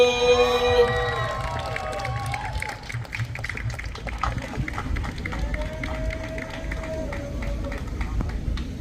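A slam poetry audience cheering and whooping for a poet, loud at first and then settling into sustained crowd noise with shouts, while voices carry over the top.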